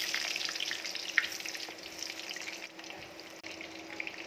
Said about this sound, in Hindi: अब हम इसमें शलगम ऐड करेंगे और इनको हम डीप फ्राई करेंगे